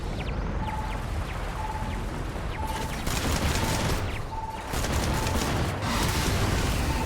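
Continuous dense rumbling and crackling blasts from Starfield video game explosions fill the whole stretch, loud and steady, with repeated boom-like surges and no speech.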